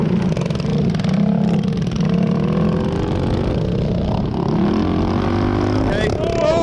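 A pack of mini bikes in a three-hour enduro race roars up a hill climb, engines revving and whining together in a loud, thunderous mass approaching close by, with voices mixed in.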